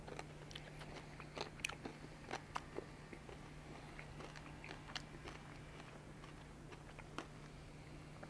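Rocks of hard, solid chocolate candy chewed close up, a faint, irregular series of sharp crunches and bites over a quiet low hum, with no talk.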